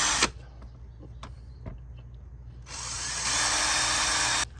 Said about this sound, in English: we're simply gonna drill a hole right here at the base